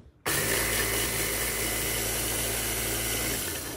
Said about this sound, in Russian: Первым делом в блендере перебью семена льна в муку.